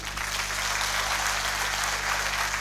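Audience applause at a youth empowerment opening ceremony in Senegal, a continuous wash of distant clapping over a low steady hum, moderately quiet and without voices.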